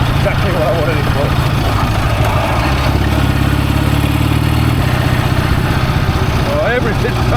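A BSA motorcycle engine from a barn find with a cracked cylinder runs steadily on a country lane, a loud, close, rough throb with rattling clatter throughout.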